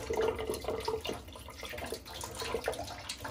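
Water and vinegar draining out of chhena for rasmalai, a continuous trickling and splashing flow, close and moderately loud with no voices.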